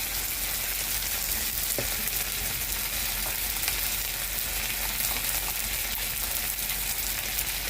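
Chicken curry sizzles loudly and steadily in the pot as cumin powder goes in, a dense, even frying hiss that fills the whole stretch without pause.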